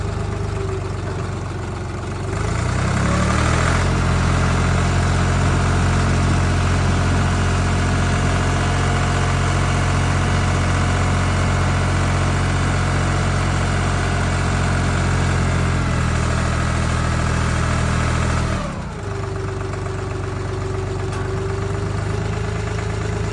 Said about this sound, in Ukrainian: оберти 1000, витискаю щеплення. Викручую руль на максимум перша передача.